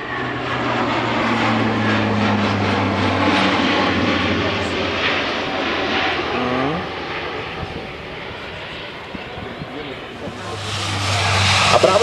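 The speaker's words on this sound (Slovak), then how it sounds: "práve začína dynamická ukážka taktického dopravného lietadla C-27 Spartan" A C-27 Spartan tactical transport aircraft during a flying display roars steadily at a distance, its propeller engine drone swelling and fading, with an announcer talking over it.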